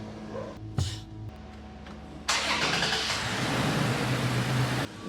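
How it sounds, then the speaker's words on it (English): A third-generation Toyota Tacoma engine cranks briefly and then catches, settling into a steady idle after an oil change, heard close and alone after a short quiet pause. "So let's go ahead and test start."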